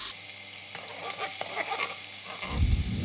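Chopped onion sizzling briefly in hot oil in a pan for a pea soup, a steady close frying crackle that swells louder as the onion hits the fat, with no voices.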